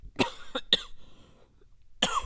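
A few sharp, close coughs in quick succession, a pause, then another cough burst.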